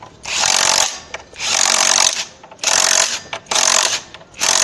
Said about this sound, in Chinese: 这个呢，直接用扳手我们给它打紧